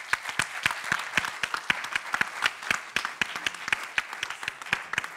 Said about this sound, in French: encore mes applaudissements pour toute l'équipe de Pau